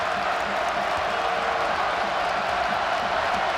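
Home crowd at a Rutgers men's basketball game against Wisconsin, a steady roar of cheering and crowd noise filling the arena, loud and continuous, with a commentator's voice faintly mixed in.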